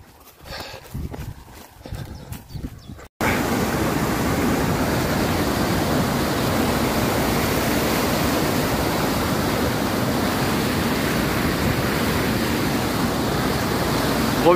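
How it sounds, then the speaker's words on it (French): A river rushing below a trail during the Kreiz Breizh trail run near Pontivy, a steady broadband roar that swells after a brief quieter stretch of footsteps and continues loud and unbroken to the end. "Contrebas, il y a une rivière"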